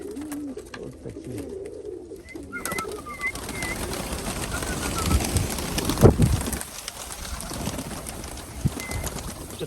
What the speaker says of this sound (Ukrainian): Эта голубочка молоденькая тоже вышла.